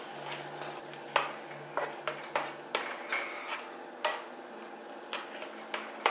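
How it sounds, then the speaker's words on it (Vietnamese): Mushroom cream sauce is stirred in a pan, with a spoon scraping and knocking against the metal in irregular clinks over a quiet sizzle. "Trộn đều lên."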